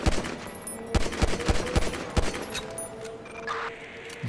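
Gunfire in GTA 5: a burst of sharp, loud shots in quick uneven succession over roughly the first two seconds, then quieter game ambience with a brief rising tone near the end.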